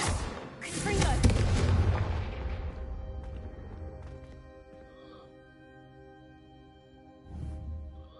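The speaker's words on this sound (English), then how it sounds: "Confringo!" Confringo fire spell bursting in Hogwarts Legacy, a heavy booming explosion with a crackling tail that decays over a couple of seconds, followed by a quieter second thump; a voice calls out the spell.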